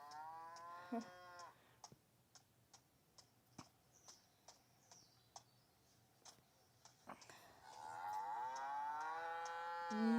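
Cattle moo on a cow farm in a car driving video game, with long drawn-out lowing calls at the start and again near the end, over a soft run of regular ticking clicks.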